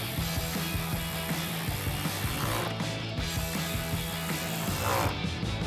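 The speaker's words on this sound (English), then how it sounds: "Grab our ratchet, extension, 7mm socket, tighten those two down." A ratchet with an extension and 7mm socket tightens two screws on a 2024-2025 Mustang LED tail light, producing a steady, close rapid clicking of the pawl throughout with no talking.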